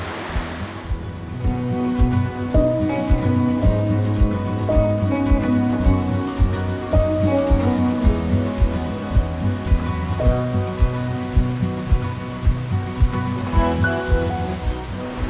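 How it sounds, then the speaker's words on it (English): A loud, continuous rush of falling water from a waterfall in South Africa, dense and roaring without a break, with no voices. "This is one awesome waterfall."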